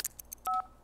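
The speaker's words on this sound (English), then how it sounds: "Now she's calling him on the phone." A few quick keypad tones from a phone being dialed in The Sims 3, with short beeps followed by one longer steady tone, close and clean with no voices.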